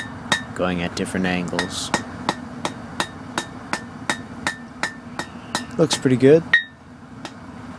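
A hammer strikes hot steel on an anvil while forging a barbecue fork, quick light ringing taps falling in a steady rhythm, with someone talking between and over the blows.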